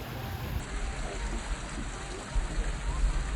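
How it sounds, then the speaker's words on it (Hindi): Heavy rain at a visitor entrance in Ottawa, Canada, a dense, steady hiss of downpour with a low rumble underneath, loud and continuous with no talk. "अब सीन ये है कि ये बहुत ज़्यादा बढ़ चुकी है बारिश"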